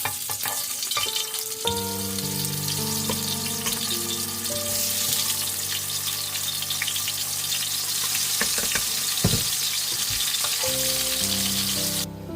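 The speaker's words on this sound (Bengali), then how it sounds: "পাশে মাছ ভাজা হচ্ছে" Fish fries in hot oil in a home kitchen, a dense, steady sizzle that runs throughout, with brief stirring and clinking over it and no talk.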